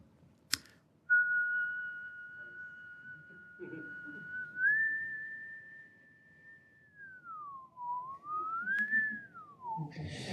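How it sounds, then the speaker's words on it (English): A single person whistles a long sustained note into a microphone, holding it steady before sliding up, dipping down and rising again, clear and close against a quiet room. "if I whistle into the microphone, you should see a very clear sinusoid here."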